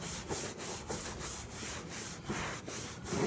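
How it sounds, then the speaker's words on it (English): Rhythmic back-and-forth scrubbing on a car during detailing, a brushy rubbing stroke repeating about every third of a second, close and moderately loud, with no talk. "now we can start scrubbing"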